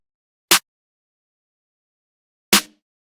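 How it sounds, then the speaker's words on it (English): Two isolated hits of a layered snare, a trap snare stacked with an acoustic snare for a dark trap beat. They are spaced two seconds apart, punchy and dry against silence. "I layered this like trap snare with this acoustic snare"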